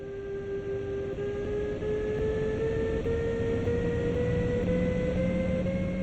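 Steady interior rumble of a double-deck passenger coach hauled by a Bauer 146.2 electric locomotive on the Spessart ramp between Aschaffenburg and Gemünden in Train Sim World 2020, with a constant tonal whine slowly rising in pitch as the train gathers speed.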